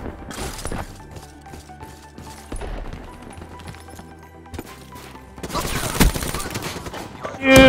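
VMP submachine gun fire in Black Ops 3 multiplayer on Infection, several rapid bursts of game gunfire with impacts and a loud crash at the end, mixed with quieter game effects.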